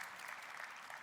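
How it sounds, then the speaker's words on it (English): Audience applause for a panel at an energy conference, a dense, steady clatter of many hands clapping, loud and sustained throughout without a break. "A round of applause for our panel."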